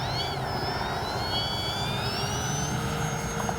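Kavan Pilatus PC-6 Porter RC plane taking off from grass: a steady, high electric motor whine that climbs and wavers in pitch over a constant background, with no talking.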